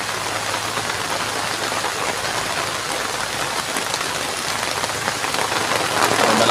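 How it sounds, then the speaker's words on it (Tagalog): Heavy rain pours steadily near a riverbank among large dead trees, a dense unbroken hiss of drops that swells slightly toward the end, with no one talking. "Lakas ng ulan, oh."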